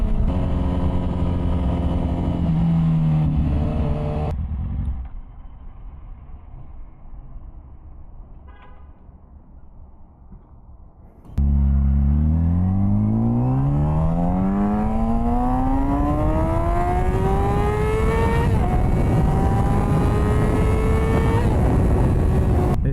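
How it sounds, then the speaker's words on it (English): A 2006 Yamaha R6 600cc inline-four sport bike revs high and drops through gears. After a quieter stretch it roars back, with rising engine pitch as it accelerates, loud and close. "Something about downshifting a little 600 inline 4, like back to back to back, is so satisfying."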